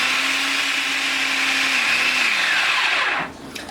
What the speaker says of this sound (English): We're going to keep blending this